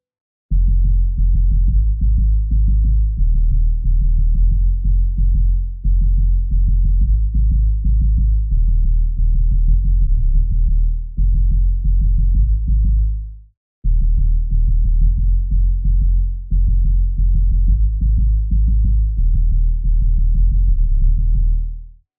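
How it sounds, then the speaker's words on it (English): Deep sine sub bass throbs beneath short, plucky synth notes in a repeating rhythmic pattern, loud and dark, pausing briefly partway through. "providing a plucky kind of mid-range sound just to complement the sine wave sub bass"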